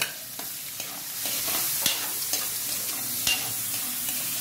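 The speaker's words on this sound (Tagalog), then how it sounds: "Nagtatalsikan ng bawang par." Garlic and onions sizzle steadily as they sauté in a pan, a loud continuous hiss broken by occasional spatula scrapes and stirring taps, close up with no talk.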